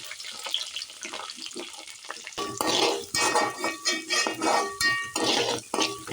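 Chopped onions hit hot oil already holding garlic and curry leaves for egg fried rice. A quiet clink opens, then a loud, steady sizzle and frying hiss swells in waves as the pan is stirred with scraping strokes.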